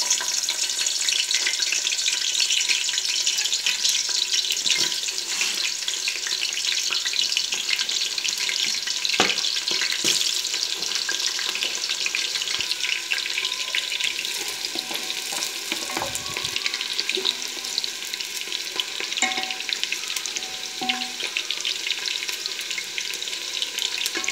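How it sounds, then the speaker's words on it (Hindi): Onions sizzle and crackle in hot oil while cooking daal mash, a dense continuous frying hiss with occasional stirring clatters, close and steady throughout. "अब हम इसमें डालेंगे प्याज"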